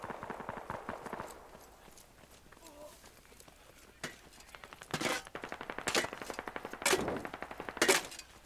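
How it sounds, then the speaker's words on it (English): Machine gun fire in the tactical shooter Squad comes in bursts of rapid, loud shots, some close and some further off, with soft footsteps and a faint voice between the volleys. "Machine gun close to it."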